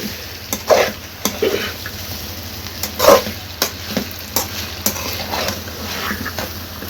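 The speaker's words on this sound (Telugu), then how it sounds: "మధ్య మధ్యలో కలుపుకుంటూ ఒక రెండు నిమిషాలు కోసారట కలుపుకుంటూ ఫ్రై చేసుకుందాము" Chicken pieces fry on a medium flame while a spoon stirs them now and then, giving a close, steady sizzle punctuated by several sharp scraping strokes against the pan.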